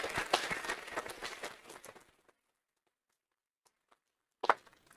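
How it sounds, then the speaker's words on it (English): Applause at a county board of supervisors meeting: a couple of seconds of scattered clapping that stops abruptly, followed by near silence, a few faint taps and a brief burst of noise at the end. "Please join me in giving her a round of applause."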